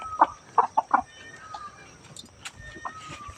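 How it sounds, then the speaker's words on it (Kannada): Chickens at a village farmyard give a few quick, close clucks near the start, followed by fainter scattered calls over low background noise. "ಆ ಕೋಳಿ ಈಗ ತಾನೆ ಎದ್ದು ಬಂದೈತೆ"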